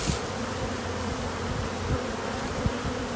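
A dense, steady drone of many honeybees, including drones, buzzing up close behind a dryer, continuous and loud with no talking.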